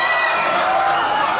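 Concert crowd at a performance cheering and screaming loudly and continuously, a dense wash of voices with no pause.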